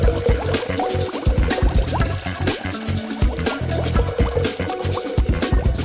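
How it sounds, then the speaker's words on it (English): Resin is poured over Orbeez into a toy mermaid doll habitat, making a steady wet trickling stream dotted with rapid small drips, clicks and squishes, close and fairly loud throughout. "And then pour on some resin."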